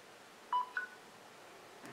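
A mobile phone chirps as its charging connection is made on a homemade charger built from a thermoelectric Peltier cooler heated by a lamp. Two short, thin electronic beeps sound close together in a quiet room.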